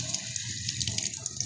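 A fish being rinsed under a running kitchen tap: a steady, close, fairly quiet stream of water splashing, with small uneven spatters throughout and no talking.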